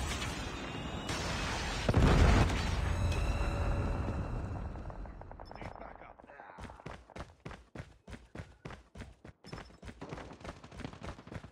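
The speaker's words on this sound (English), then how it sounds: "Predator missile inbound." A predator missile strikes in the shooter video game Call of Duty Mobile: a loud rumbling blast that rolls and fades, followed by a long run of rapid gunfire bursts.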